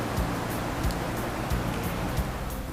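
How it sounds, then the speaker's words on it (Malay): Steady surf of ocean waves at a coastal glamping campsite in Brunei, a continuous broadband wash with soft recurring swells, moderately loud and unbroken, with no voices. "suasana yang dipenuhi dengan bunyi ombak"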